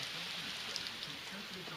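An outdoor hailstorm, with small hail chunks falling in a dense, steady patter that forms a continuous hiss at moderate loudness.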